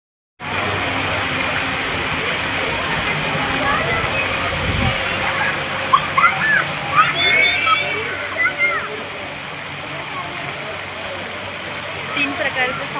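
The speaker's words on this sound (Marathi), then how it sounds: "तीन प्रकारचे फाउंटन आहे तिथे, फ्रेश पाणी आणि थंड वातावरण आहे" Water fountains splash at an ISKCON temple, a loud, steady rushing spray that fills the scene, with voices faintly audible nearby.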